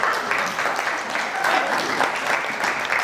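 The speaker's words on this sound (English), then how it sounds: "Did I hear an applause?" A short burst of audience applause at a women's financial event, moderately loud and fairly even, with light crowd noise mixed in.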